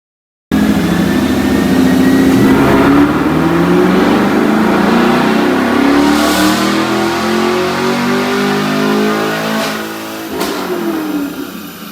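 A 2020 Chevrolet Camaro with an LT1 V8 revs hard on a dyno, the engine note climbing steadily in one long loud pull before dropping off, then blipping briefly near the end.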